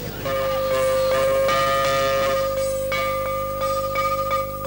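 A school gong at Harkrishnan Public School in Delhi rings out repeatedly, loud and resonant, each stroke leaving a long sustained metallic tone that overlaps the next.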